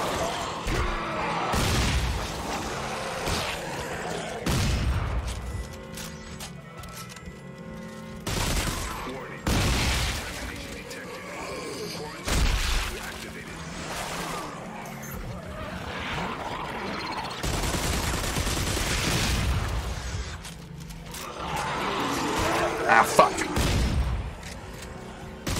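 Rapid bursts of gunfire from a weapon in the sci-fi horror shooter Dead Space 3, loud booming volleys repeating in clusters across the scene with some game ambience between shots.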